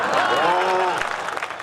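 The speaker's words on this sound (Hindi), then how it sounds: "अब आपकी तालियां उठेंगी" An audience at a poetry gathering breaks into lively clapping while a voice carries on speaking over it, the applause thinning out toward the end.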